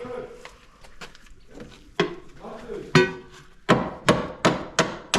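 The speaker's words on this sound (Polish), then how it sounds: "Młotkiem zawsze widzicie. Majzel i młot." A hammer strikes a cold chisel during cleanup work at an open-air museum. Scattered lighter taps give way to five or six loud, sharp metallic blows in a steady rhythm, with people talking in between.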